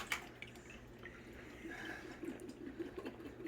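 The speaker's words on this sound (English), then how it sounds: "We're literally going to add all the pickle juice." Pickle juice pours into a bowl of Kool-Aid as a faint, steady liquid trickle with light splashes and drips over a low background hum, close but quiet throughout.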